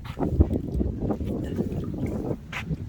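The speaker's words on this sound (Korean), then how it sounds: "날씨는 좋은데 바람 불고 합니다." Outdoor wind buffets the microphone in steady gusts on a sunny countryside day near water, with rushing noise and a few faint splashy sounds.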